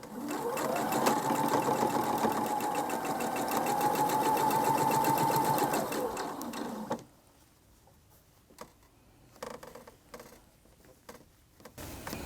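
Sewing machine stitching quilt blocks for a kaleidoscope scrap quilt, a steady close mechanical whirr with fast rhythmic needle ticking for about seven seconds, then stopping, leaving faint handling noises.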